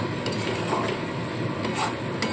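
Lote fish jhuri being stirred in a pan over medium heat as the water cooks off: a soft, steady scraping and stirring with a faint sizzle underneath, quiet and close, with no talking.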